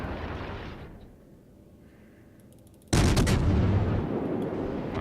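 A World of Warships cruiser's main guns fire a loud, close salvo that erupts suddenly after a quieter stretch, then rumbles on in a sustained roar with no talk over it.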